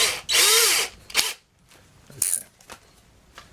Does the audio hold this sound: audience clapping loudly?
no